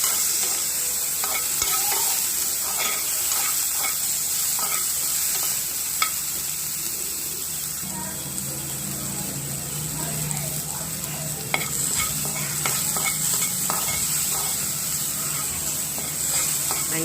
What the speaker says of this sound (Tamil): இதில் அந்த வெங்காயத்தை போட்டு வதக்கிடலாம்.